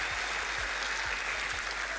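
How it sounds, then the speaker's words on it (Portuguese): An audience at a live stage show applauds with a steady, even wash of clapping, with faint low thumps underneath, lasting a couple of seconds. "Palmas"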